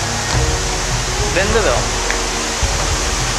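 A waterfall and rushing rapids in Langkawi, Malaysia make a steady broadband roar throughout, with someone speaking briefly over it.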